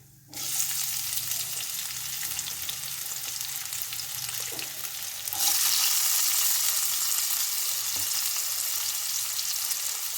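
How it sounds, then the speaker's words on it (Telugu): Chopped onions frying in a pan of hot oil for boiled egg curry, a steady close sizzle that grows louder and brighter partway through as more onions go in, with no talking. "అవి కొంచెం ఫ్రై అయిన తర్వాత మనం ముందుగా కట్ చేసుకొని పెట్టుకున్న ఆనియన్స్ని యాడ్ చేయాలి."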